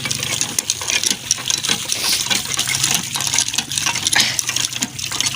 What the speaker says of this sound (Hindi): तो अभी हम देंगे पानी, पाँव अपने गंदे हो गए हैं।